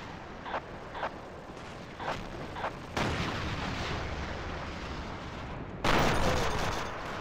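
A 152 mm ML-20 howitzer-gun firing in a Battlefield game: several quieter distant shots, then two heavy, booming blasts a few seconds apart, each followed by a rumbling tail.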